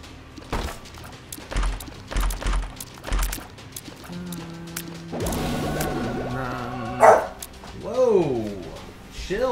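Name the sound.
dogs barking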